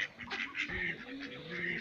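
Muscovy ducks in their park enclosure give a few short, close quacks and honking calls in quick succession over quiet background noise.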